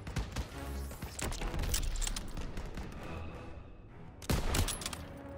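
Gunfire in the World War II shooter Call of Duty: WWII during a stronghold battle, with rapid cracks and bursts of rifle and machine gun shots at moderate to faint volume and dull booms mixed into the din.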